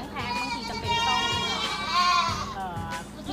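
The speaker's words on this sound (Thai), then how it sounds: "แพะเนื้อค่ะประมาณ5เดือนค่ะ" A five-month-old meat goat bleats repeatedly among other goats, loud wavering cries overlapping one another in a busy farm pen, with voices in the background.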